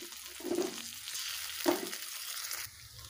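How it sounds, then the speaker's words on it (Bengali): Ginger, garlic and onion paste fries softly in a pan, a low steady sizzle broken by a couple of brief stirring scrapes, close but quiet. "আদা রসুন পেস্টটা আমার ভেজে নেওয়া হয়ে গেছে"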